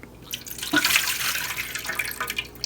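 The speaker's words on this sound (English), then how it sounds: "I want to let it sit here for dripping a little more water out" Water runs and drips from the drain pipe of a twin tub washing machine into a bucket, a close, steady trickle with splashy spatters that swells and then settles.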